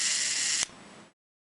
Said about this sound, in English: With the speed cam in place, set it to a slow shutter speed and give it a test.